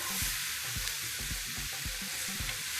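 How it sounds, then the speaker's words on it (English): Onions caramelizing in a pan, a steady quiet sizzle with a soft hiss throughout and regular low scraping stirs roughly every half second, close and with no voices. "The onions are caramelizing."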